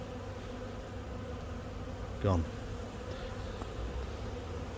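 Honeybees buzz steadily during a colony transfer, a close bee sweeping past loudly for a moment over the constant hum of the swarm, with a brief spoken word.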